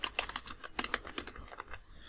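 Rapid typing on a computer keyboard, a quiet irregular patter of close key clicks with no talk.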